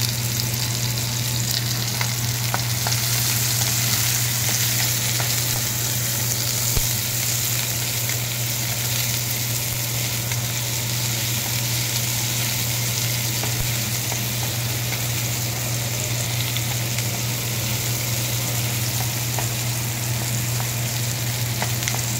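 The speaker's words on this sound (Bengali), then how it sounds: "পেঁয়াজ কুচিটা দিয়ে এটা একটু ভেজে নিই।" Chopped onions fry in hot oil in a kadai for paneer, giving a steady, close, unbroken sizzle with faint crackles throughout and no talking.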